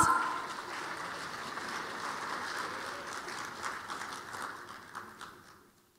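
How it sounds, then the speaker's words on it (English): A crowd applauds steadily at the close of a formal opening ceremony of an Islamic finance conference, a broad, continuous patter that slowly thins and fades out over about six seconds. "let's give a round of applause"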